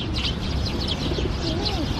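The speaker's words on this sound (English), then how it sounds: "There's tons of birds over here." Pigeons cooing in Ueno Park, Tokyo, soft low coos and a few faint chirps over steady outdoor park background noise, quiet and close.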